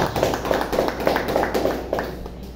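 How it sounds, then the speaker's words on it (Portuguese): Congregation in a church clapping together for Jesus during an evening worship service, a steady run of claps at moderate distance with room echo and a low background hum. "uma linda salva de palmas para Jesus"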